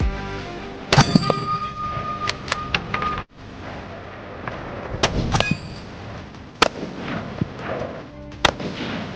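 Sharp shots from a Ruger American Gen 2 .308 rifle ring out several times, with metallic clangs of rounds striking a steel target at irregular intervals and no one speaking.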